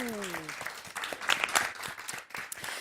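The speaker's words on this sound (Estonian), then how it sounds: "Teeme aplausi!" Audience applause at a live evening event, a crowd clapping steadily at moderate loudness right after a voice finishes speaking, with scattered claps continuing throughout.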